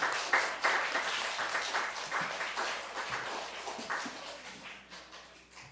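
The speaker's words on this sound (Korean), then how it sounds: "박수로 한번 격려하도록 하겠습니다" A church congregation claps together during a Sunday service, producing a fairly soft, sustained patter of many hands with individual claps standing out, and no talking.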